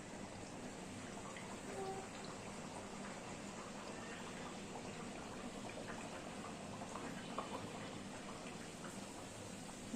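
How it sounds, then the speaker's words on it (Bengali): A Bengali dal puri fries in hot oil with a constant, even sizzle like light rain, close and steady throughout. "তেলটা আমার গরম হয়ে গেছে, আমি তেলের মধ্যে ছেড়ে দেই।"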